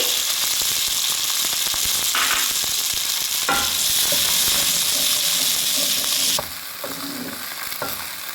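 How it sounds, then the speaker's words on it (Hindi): Moong dal fritters (mongre) frying in hot oil: a loud, continuous close sizzle with bubbling and crackling, stirred now and then. It drops to a softer hiss partway through, and no one speaks. "ये सबसे पहले शामिल करूंगी मैं मोंगरे। इनको मैं करूंगी थोड़ा सा फ्राई।"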